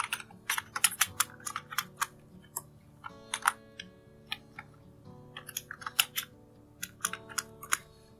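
Rapid, uneven keystrokes on a computer keyboard, close and clear, with sharp clicks and short pauses between bursts of typing.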